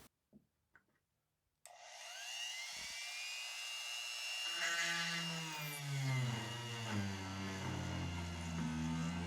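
A power drill whirs up and bores through the wooden transom of a stitch-and-glue passagemaker dinghy, a sustained close whine that deepens and grinds as the bit bites into the wood after a brief quiet start.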